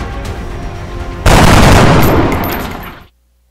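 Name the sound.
rocket fired in X-Com video game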